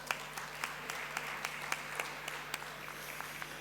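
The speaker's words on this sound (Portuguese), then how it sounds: "peço uma salva de palmas para este vídeo" Quiet, distant applause at a European funds showcase event in Alentejo, sparse individual claps sounding over a low steady hum, faint throughout.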